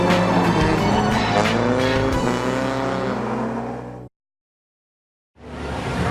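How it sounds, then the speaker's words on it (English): A Nissan S13 drift car at a night drift event roars loudly close by with a strained engine and tire noise, then cuts to silence before the roar returns. "He's driving his S13 right now to, getting some seat time in."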